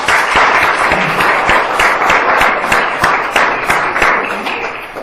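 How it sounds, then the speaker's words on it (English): A room of colleagues at a hospital patient safety report-out gives a round of applause, with loud, close clapping and distinct individual claps standing out over the steady wash of the crowd, fading slightly at the end. "let me give you a quick round of applause, because you really deserve it"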